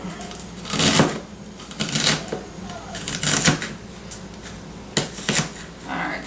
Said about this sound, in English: Make sure you got it cut up really good.